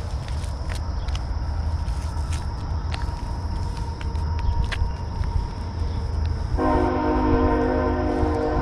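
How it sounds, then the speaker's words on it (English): A train passes near a railroad track in Bosnia, a steady rumble of rolling cars with a sustained horn blast near the end, heard from a moderate distance outdoors. "Train somewhere."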